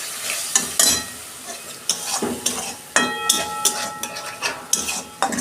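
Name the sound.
eggplant frying with Kashmiri chili powder and a little water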